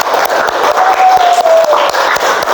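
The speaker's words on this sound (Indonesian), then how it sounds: "Beri tepuk tangan yang meriah untuk teman-teman yang sudah maju" Students in a classroom give a loud, sustained round of applause, with a faint voice briefly audible within the dense clapping.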